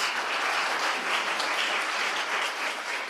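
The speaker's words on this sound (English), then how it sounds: "Let's give him a big round of applause, please." Even, sustained clapping from an audience at a plenary session of a sustainability conference, moderately loud and continuous, honouring a speaker with no voices over it.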